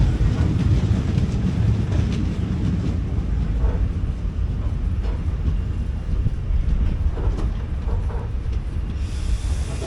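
17235 Nagercoil Express passenger train running into a halt station, a steady loud rumble with faint wheel clatter and hiss throughout, close and continuous.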